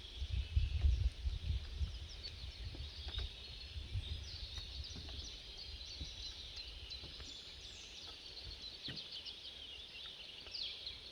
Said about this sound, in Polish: najpiękniej ptaki śpiewają